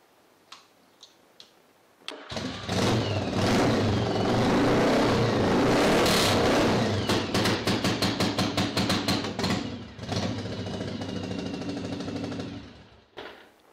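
A motorcycle engine with a faulty regulator rectifier starts up and runs loudly and roughly, its steady roar broken by rapid irregular popping and stuttering misfires before it cuts off.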